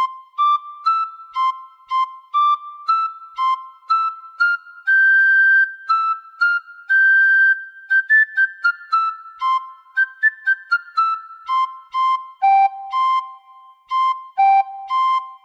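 A tin whistle plays Frère Jacques alone, clear single notes in a steady, repeating phrase pattern.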